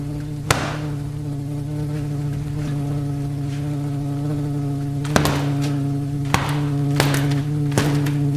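A murder hornet buzzes with a steady, droning hum that stays loud and close throughout, broken by a few sharp taps and knocks.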